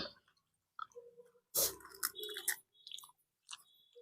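Close, wet chewing of phuchka (pani puri) during an eating challenge, with several bursts of crunching and squishy mastication separated by short pauses, quiet and intimate.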